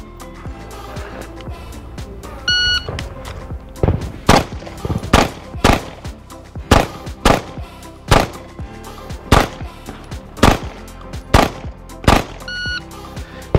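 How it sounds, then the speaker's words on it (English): Rapid gunshots from a ten-shot recoil management drill on a shooting range, about ten sharp loud reports in quick succession with brief gaps, with no talk between the shots. "so you got off one more shot this time"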